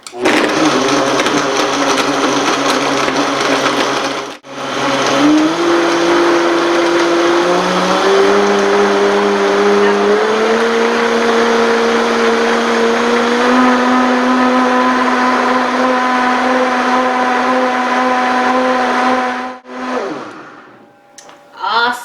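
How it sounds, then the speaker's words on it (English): A blender whirs loudly for about twenty seconds while blending a green smoothie, its pitch rising in steps as the mixture loosens. It cuts off briefly early on and stops near the end. "Let's blend."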